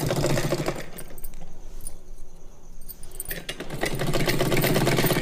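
Sewing machine stitching old saree fabric, a steady whirring run with a brief pause in the middle before the motor picks up again, loud and close.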